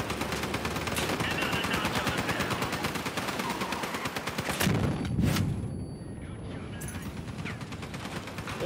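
A big gun in the vehicle combat game Crossout fires in a fast, sustained burst of loud, close shots, then a heavier blast and a quieter stretch, with no talking over it.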